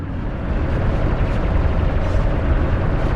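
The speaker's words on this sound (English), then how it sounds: "Proceeding with bombardment, targeting all major population centers." Orbital bombardment in a Star Wars: The Old Republic battle, a continuous deep rumbling roar of distant explosions that swells slightly and holds steady throughout, with no talking.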